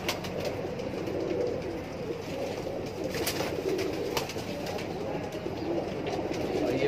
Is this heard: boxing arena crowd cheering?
no